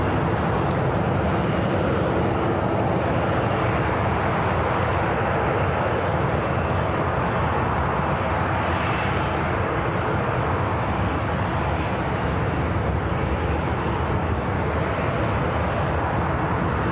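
A United airliner arriving from London Heathrow lands at San Francisco International Airport, a steady loud jet roar with broad rumble that holds throughout without pause.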